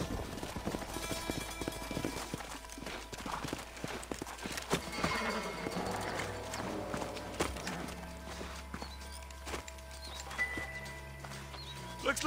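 Horses walk with their hooves clip-clopping in an even rhythm over a busy background. Voices speak now and then, and a brief whinny may be heard.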